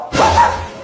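A single short, loud bark-like yelp from a human voice imitating a dog, close and abrupt.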